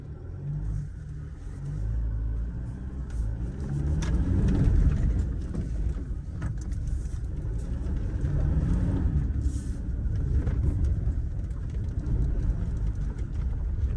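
Toyota Hilux 48V Raider 4x4 mild-hybrid with off-road tyres driving through loose sand, a steady low engine drone and rumbling body noise throughout with bumps, no talking.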